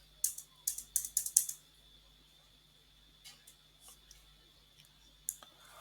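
A computer mouse clicks on a website in a quick burst of five sharp clicks, then a few scattered fainter clicks follow, close and quiet against a low electrical hum.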